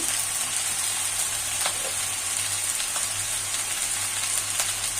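Bottle gourd greens and lote fish frying in a pan, a steady loud sizzle and crackle running throughout with occasional stirring clicks.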